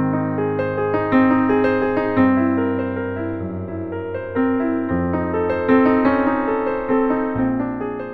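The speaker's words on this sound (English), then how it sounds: "The Berlin tone is actually taken from a Bechstein D282 grand piano" Casio Celviano AP-750 digital piano playing its Berlin grand tone, sampled from a Bechstein D282 concert grand, with rich sustained chords and melody notes changing every second or so, clear and unaccompanied.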